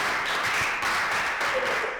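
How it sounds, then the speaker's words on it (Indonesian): A room of participants at an Indonesian Catholic religious education teacher training gathering claps together in dense, sustained applause, with steady volume and no pauses. "Tepuk tangan dulu untuk kalian"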